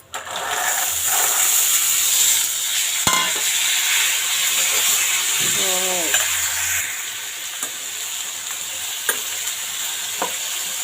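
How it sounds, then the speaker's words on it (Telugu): Steady sizzling of chickpeas frying in a pan with occasional spoon scrapes and knocks against the metal, close and continuous. "ఒకసారి అంతా బాగా కలిపేసుకుందాము"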